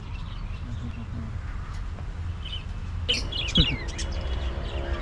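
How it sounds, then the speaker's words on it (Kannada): Scattered high chirps and tweets from budgerigars, a few brief calls standing out midway over a low background rumble. "ಇದೇನು ನೋಡ್ತಾ ಇದ್ದೀರಲ್ಲ, ಇದ್ರ ನೇಮ್ ಬಂದ್ಬಿಟ್ಟು ಬಜ್ಜೀಸ್ ಅಂತ"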